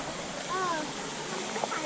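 Flowing stream water on a hike up Khao Chanong mountain, a continuous broad rushing wash heard close by, with people talking over it.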